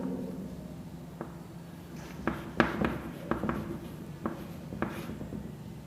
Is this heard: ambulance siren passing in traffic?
no